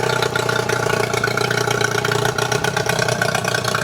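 A Yamaha 15hp two-stroke outboard motor runs steadily at idle, a close, continuous buzzing engine drone with a fine rattling texture and no talking over it.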